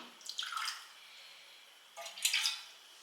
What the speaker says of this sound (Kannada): ಸ್ವಲ್ಪ ನೀರು ಹಾಕ್ಕೊತಾ ಇದ್ದೀನಿ.